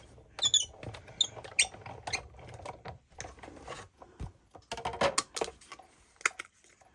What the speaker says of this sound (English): we're just going to cut it 3 times.